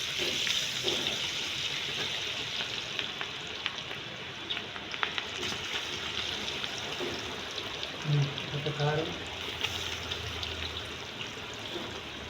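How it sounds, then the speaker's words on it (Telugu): Cabbage pakoda frying in hot oil, giving a steady close hiss and crackle with brief bubbling bursts. "ఆయిల్లో ఫ్రై అవుతుందండి"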